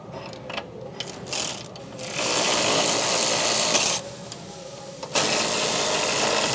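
A ratcheting wrench threads a lock nut on a Cadillac CTS-V, making close, rapid clicking that starts in short bursts and then runs as longer continuous stretches of ratchet chatter.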